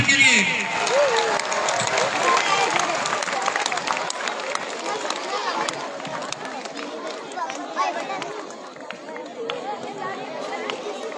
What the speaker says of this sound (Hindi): जोरदार तालियां प्रशांत जी सर के लिए।